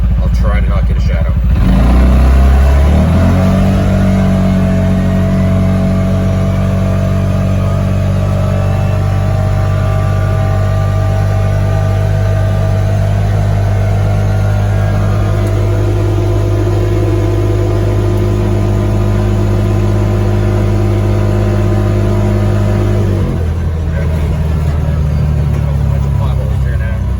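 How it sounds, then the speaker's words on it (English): A vehicle fitted with an MSC Stage 1 clutch is floored: a loud, close engine roars at full throttle, its drone climbing and holding steady for about twenty seconds before easing off. "We're gonna floor it, watch the RPMs, watch the speed."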